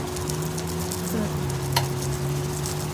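A mushroom curry with luffa, bamboo shoots and fish simmers in a pot at an outdoor balcony kitchen, giving a soft steady sizzle and bubbling with a brief clink of a utensil as it is stirred.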